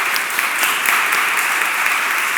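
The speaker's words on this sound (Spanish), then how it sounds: "un aplauso para Domingo" An audience at a circus-theatre workshop gives steady, dense applause, many hands clapping evenly throughout without a break, fairly close and with no talk over it.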